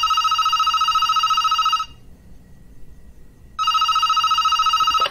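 Two bursts of a loud electronic telephone ring, each nearly two seconds of steady trilling tone, separated by a quieter gap, with no voices.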